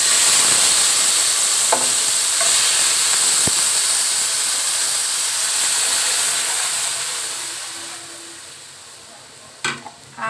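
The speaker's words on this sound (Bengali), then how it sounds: "আমি যে দুধটা জাল করে রেখেছি সেই দুধটা এই ঘিয়ের মধ্যে ঢেলে দিব" Boiled milk is poured into vermicelli frying in ghee for a mango milk semai. A loud, hissing sizzle steadily fades as the milk settles. A couple of utensil clinks are heard near the end.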